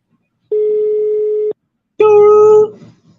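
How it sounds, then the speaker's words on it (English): An odd phone ringback tone on a call sounds twice: a steady one-second pure tone, a short pause, then a harsher, richer tone that cuts off abruptly. "I don't know what the fuck that ring is."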